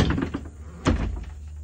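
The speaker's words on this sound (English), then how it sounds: "get ready for the door slam" A school bus door is pulled shut with a single hard, close slam near the middle of the clip, with lighter clunks and rustling before it.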